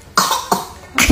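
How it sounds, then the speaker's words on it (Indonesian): A baby coughs three times in short, close, breathy bursts spaced about a third of a second apart, with no talking. "gimana batuk?"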